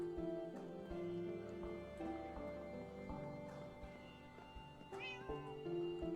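A Minecraft cat meows several times over steady game music and ambient tones, with short clear cries spread across a few seconds and one brighter call near the end.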